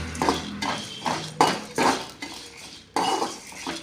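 Fennel seeds and cumin stirred in a pan for village-style chicken sukka, heard as about seven rhythmic metallic scraping strokes, close and moderately loud, with no talking.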